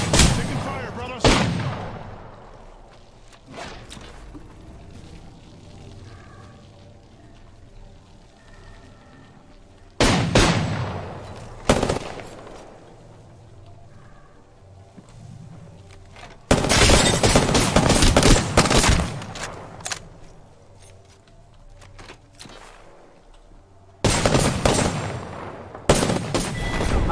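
Gunfire from the PC game Apex Legends: several loud bursts of automatic fire, clustered near the start, around ten seconds, and in a long sustained stretch near the end, with quieter game ambience between.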